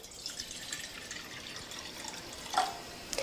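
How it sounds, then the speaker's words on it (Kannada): Water from a glass pours into a cooking pot for a horse gram sangati, a steady close trickle and splash with a couple of sharper drips near the end. "ಇದಕ್ಕೆ 1-2 ಗ್ಲಾಸ್ ನೀರು ಹಾಕ್ತೀನಿ ರೀ"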